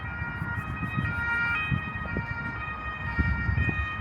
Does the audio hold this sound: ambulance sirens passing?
yes